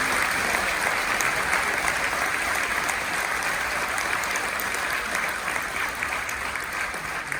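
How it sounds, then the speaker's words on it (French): Sustained, steady applause from an audience at a mayor's New Year wishes ceremony in Saint-Victoret, dense and even throughout with no voices over it, tapering slightly toward the end. "je pense qu'on peut les applaudir aussi très fort"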